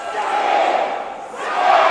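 A wrestling crowd at a JCW Almageddon 3 match roars and chants loudly and steadily, a dense wash of voices that dips briefly in the middle before swelling again.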